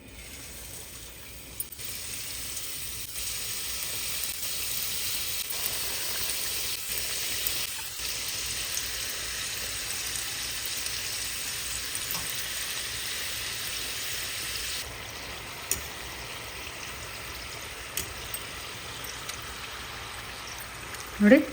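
Sweets for a festival frying in hot oil reused from making boondi, kept on medium heat: a steady, even sizzle and crackle throughout, with a few faint clinks near the end.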